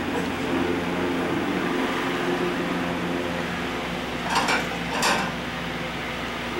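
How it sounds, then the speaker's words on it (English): Dishes being washed at a home sink, a steady running-water hiss with a couple of brief clinks of dishware near the end, close and fairly loud. "Look at you doing the dishes here."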